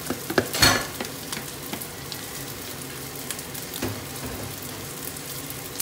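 Fried rice and egg stirred in a pan with a ladle, soft sizzling underneath repeated scraping and clinking strokes, close up.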